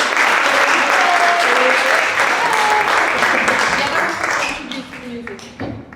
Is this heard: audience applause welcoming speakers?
yes